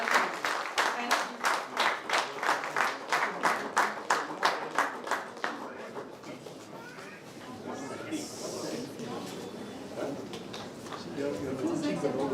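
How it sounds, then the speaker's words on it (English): Audience at a business chapter launch event in Coimbatore applauds to welcome a speaker, a steady burst of rhythmic clapping over the first six seconds that then thins into scattered claps, crowd murmur and talk. "Please join me in giving a warm round of applause"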